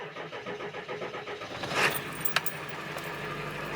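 A truck engine being started after sitting unused for two weeks: a metallic jangle and cranking burst around the middle, then the engine catching and settling into a steady idle close by.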